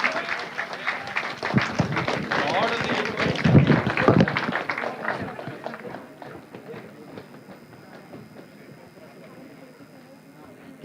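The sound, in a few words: audience applause for the NPTEL team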